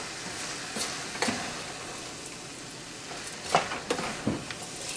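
Bulgur being stirred into browned ground beef in a pan, with soft scraping and light sizzling and a few sharper utensil clicks against the pan, fairly quiet and close.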